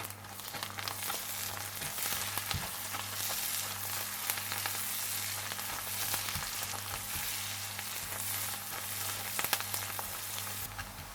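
Spices with green coriander and turmeric frying in a pan, a steady close crackling sizzle with a faint low hum beneath, continuous and without talk.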